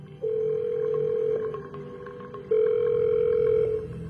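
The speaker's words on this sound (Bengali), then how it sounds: "বাড়ি গিয়ে অলি সৌনককে ফোন করে বলল" Two long, steady telephone tones with a short gap between them play as a call is placed, loud and close, with no talking.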